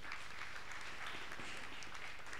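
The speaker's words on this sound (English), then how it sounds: "Let's give God a round of applause." A church congregation applauds for God, a faint, distant wash of clapping rising and falling slightly, heard thinly through the room without any voices on top.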